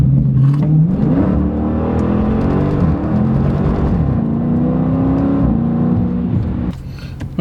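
A Dodge Challenger launching with launch control, its engine roaring loud and close as the revs climb steadily through several gears before easing off near the end.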